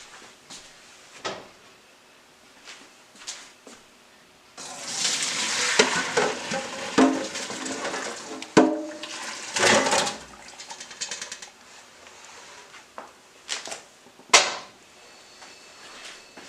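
Water from a pot of boiled potatoes pours out in a rushing, splashing burst in a home kitchen. Clanks and knocks of the pot come before and after the pour.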